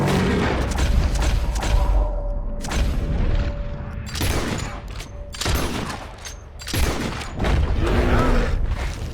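Gunfire in the Western video game Red Dead Redemption 2: repeated loud, close bursts of shots and booms in clusters across several seconds, with brief lulls between volleys.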